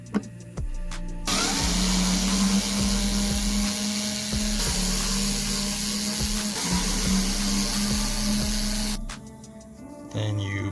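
Power tool unscrewing screws from a subwoofer box for a 1999-2006 Duramax truck, a steady whirring drive running for several seconds near the listener, with clicks and brief pauses before and after.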